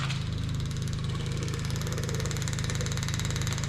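The electric fuel pump of a 1969 Buick Riviera runs with a steady, rapid mechanical clatter and hum, close and continuous for a few seconds, with no talking.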